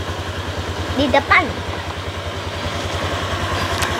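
A motorcycle engine putters along at a steady, fairly close and even pulse throughout the ride, while a short bit of speech and a voice break in near the middle.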